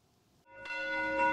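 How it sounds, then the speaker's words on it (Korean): A neighbourhood church bell rings at dawn, a single clear resonant strike swelling in after a quiet start and sustaining with rich lingering overtones. "성실히 하루의 시작을 알렸던 동네 교회당의 새벽 종소리"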